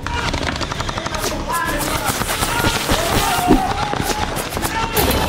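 Rapid automatic gunfire from a video game firefight defending a studio against twenty armed attackers, dense bursts crackling continuously with shouting players under the shots.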